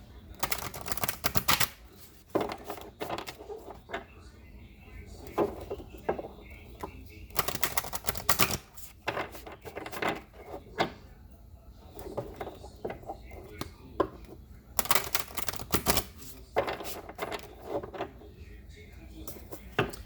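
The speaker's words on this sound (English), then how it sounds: "let me pull a couple vintage wisdom oracle cards for each" Vintage wisdom oracle cards are shuffled and pulled up close, giving bursts of crisp riffling and light slaps with quieter pauses between.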